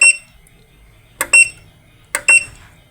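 Alarm beeps from a ONE-SOLAR MPPT 40A solar charge controller on a 12V system: three short electronic beep bursts, each a quick double chirp, spaced about a second apart, close and fairly loud with no talk.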